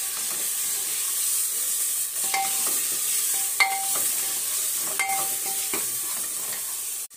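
Tomatoes with a small spoonful of salt frying in a pan for pav bhaji, giving a steady loud sizzling hiss throughout, with a few brief clinks of stirring utensils.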